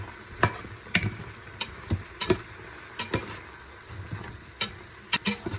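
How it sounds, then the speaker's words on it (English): Chicken noodle soup ingredients being mixed together with rosemary in a bowl, giving quiet, irregular stirring clicks and taps at close range. "I'm going to continue to mix our ingredients together"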